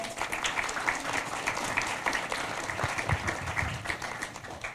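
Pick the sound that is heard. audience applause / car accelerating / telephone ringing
audience applause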